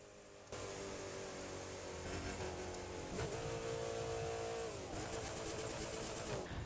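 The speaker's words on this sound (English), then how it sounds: "I really do think the sound of this engine is going to be many players' favorite." Porsche Cayenne Turbo GT SUV engine in The Crew 2 racing game, revving hard and continuously with rising and falling pitch through gear changes, loud and alone without talk.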